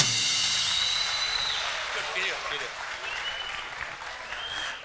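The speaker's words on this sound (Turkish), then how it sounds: "Evet, alkışlar da gelecek kocaman." Audience applause at a live Rumeli music night, sustained clapping from a large crowd filling the space, steady and loud, with an announcer's voice over it.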